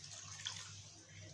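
Water is poured into a cooking pot while making chana pulao, a steady soft rushing pour with a faint splash, heard alone at low level.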